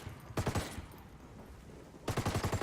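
Mark 48 machine gun firing in the video game Ghost Recon Wildlands: two loud, rapid bursts of automatic fire separated by a short pause.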